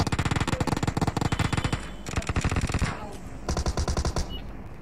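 Automatic weapon fire in the mobile battle-royale game PUBG Mobile, loud rapid bursts of shots in several volleys, close and dominant, with a brief pause between bursts.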